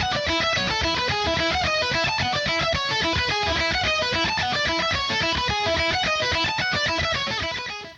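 Distorted electric guitar playing a fast arpeggio figure with wide leaps across the neck: a dense, unbroken stream of rapid picked notes, loud and close for about eight seconds, with no talking.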